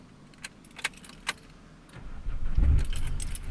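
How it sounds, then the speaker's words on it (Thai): Keys jangle in a few sharp bursts, then the engine of a 2018 Isuzu 1.9 cab-4 pickup cranks and catches, settling into a close, rumbling idle that fills the rest of the clip. "มาสตาร์ทเครื่องเลยครับ"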